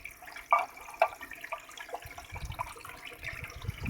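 Water runs and splashes steadily while gold is cleaned up in a pan, with a few sharp clinks and a low rumble building toward the end; no one speaks.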